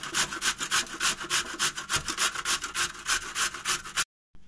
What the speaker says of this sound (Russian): Натираем на крупной терке.